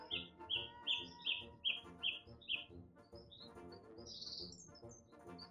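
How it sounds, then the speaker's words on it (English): Birds chirp outdoors in a rapid run of bright, fairly close tweets, then looser scattered calls over a quiet background, with no talk. "this is absolutely riddled with birds"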